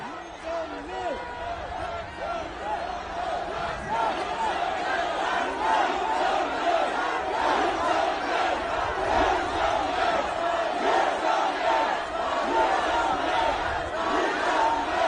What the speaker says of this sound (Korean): 윤석열 대통령을 환호하는 이 목소리가 하늘에 닿을 것이고